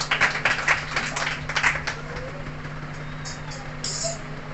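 A meeting audience claps for a short burst of hand applause at the start, which then fades into quiet room tone.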